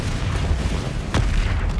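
Bombarda spell exploding in Hogwarts Legacy during a magical duel, a single heavy boom bursting out of a loud, rumbling battle background, close and punchy, with no talk.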